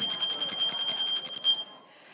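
A bicycle bell rung rapidly again and again for about a second and a half in a large group improvisation session, bright metallic trills ringing loud and close, then a short fading decay into quiet.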